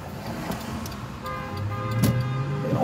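Car horns honking in traffic, a few short toots and one longer held honk over a steady roadway rumble, fairly close and loud.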